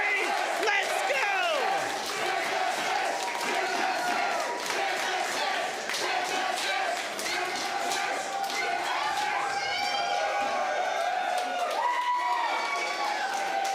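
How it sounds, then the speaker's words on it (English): A crowd at a robot combat event roars and cheers continuously, loud and dense throughout, with shouting voices rising above the din. "the crowd is going nuts"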